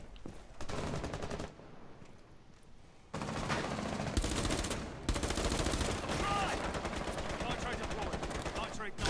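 Gunfire in Rainbow Six Siege: rapid automatic bursts of shots crackle in several loud sequences with brief pauses between them, and a voice is heard faintly alongside.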